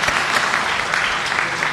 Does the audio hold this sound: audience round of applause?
yes